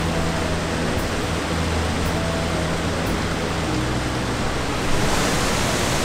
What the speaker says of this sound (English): And now we've got cascading little falls in more of like a gorge or a canyon.